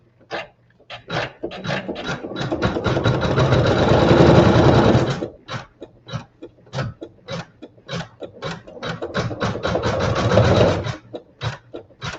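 A sewing machine stitches down a fabric tack in fast, steady runs, one long stretch followed by stop-start bursts and a quick final run, loud and close with no voices.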